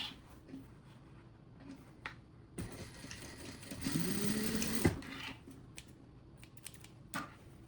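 Sewing machine stitching the seam allowances of lining and main fabric together for a makeup bag: a single whirring run of about two seconds mid-clip, framed by soft handling clicks in a quiet room.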